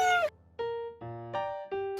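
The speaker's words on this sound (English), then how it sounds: "they are unable to roar and have a meow more in common with domestic cats" Cheetah giving a series of four or five clear, high, cat-like meows, close and loud, each call short and separated by brief pauses, with no other sounds.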